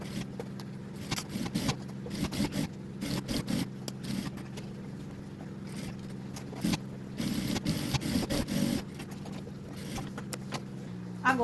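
A sewing machine stitches a seam along each side of fabric for a small handbag. Its motor gives a steady hum in bursts, with light handling and scraping noises between runs.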